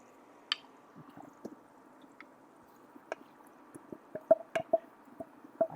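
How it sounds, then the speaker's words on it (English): Eggs being stirred into hot pasta for carbonara over low heat, giving soft wet squishes and sticky clicks of a utensil, intermittent and close, growing busier toward the end with no talking. "Now I'm actually going to cook some of the eggs in the pasta."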